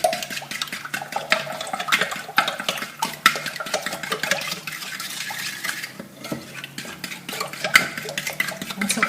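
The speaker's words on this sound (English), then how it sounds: "I'm going to beat those eggs into it well." Eggs beaten by hand into cardamom pastry dough for a braided cheese Danish: steady, close scraping and clinking of a utensil against a bowl, repeated in quick irregular strokes throughout, with no talking.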